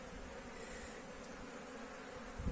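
Honeybees buzz loudly and continuously around an opened hive during an early-spring inspection, a dense close drone with no talk, and a brief bump of handling near the end.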